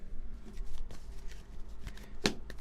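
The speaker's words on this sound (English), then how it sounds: "I'm just shuffling." Tarot cards being shuffled by hand close up, a steady papery riffle and flutter with a few sharper slaps of the deck, heard alone and fairly quiet.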